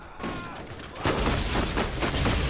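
A grenade blast in the video game Borderlands amid gunfire: a rapid crackle of shots gives way to a loud, sustained burst of explosive noise lasting a couple of seconds, dense and close, with no one speaking.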